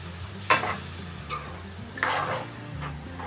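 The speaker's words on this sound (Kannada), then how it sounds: "ಅದರಿಂದ ಹಾಕ್ತಾಯಿದ್ದೀನಿ ತೆಂಗಿನಕಾಯಿ ಹಾಲು." Coconut milk being stirred into a simmering rohu fish curry in a pan, with a few distinct scraping stirs of a spoon over a steady low sizzle and bubbling, close and moderately loud.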